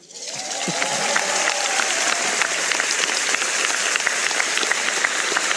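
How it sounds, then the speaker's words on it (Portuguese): Sustained applause from an audience at a university honorary doctorate ceremony in Brazil, swelling quickly from a soft start into a dense, steady roar of clapping that holds without a break. "agradeço pelos aplausos"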